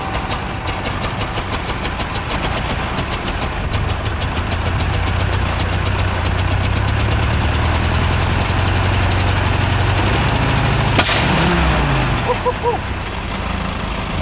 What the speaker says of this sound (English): The next problem, misfiring.